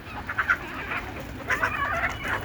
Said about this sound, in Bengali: এই যে দেখেন কীভাবে মুরগিগুলো বের হয়েছে